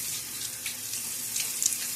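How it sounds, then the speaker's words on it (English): Water splashes and trickles steadily as a face is rinsed after a wet shave, with close, continuous running and spattering that has a few brighter splashes and no talking. "when I put a little bit of water on my face here"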